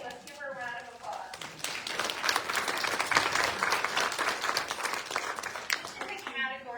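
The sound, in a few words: applause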